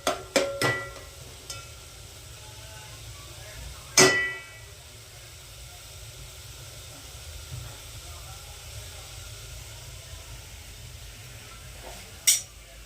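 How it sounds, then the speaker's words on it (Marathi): Potatoes and onion being stir-fried in a pan for pav bhaji: a low, continuous sizzle broken by a few sharp metallic clangs of a spatula against the pan. "बटाटे टाकून कांदा परतून घ्यायचा बघा पूर्ण मस्तपैकी"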